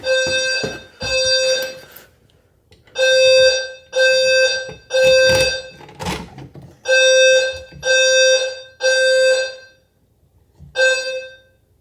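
A fire alarm blares in repeated loud, evenly spaced electronic tone bursts during a June fire alarm and emergency systems test, with brief gaps between the blasts.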